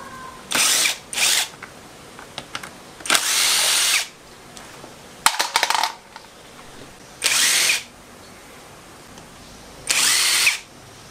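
An impact driver removing small screws from a 2001 Kawasaki KMX125 during a teardown: loud, close whirring bursts, some short and some about a second long, separated by pauses and scattered clinks of parts.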